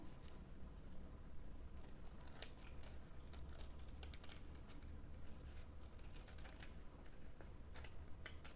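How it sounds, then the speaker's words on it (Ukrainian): Scissors snipping through folded coloured paper to cut out a semicircle for a children's appliqué craft, a steady run of soft, close crisp clicks and rustles repeating for several seconds without talk. "Вирізаємо."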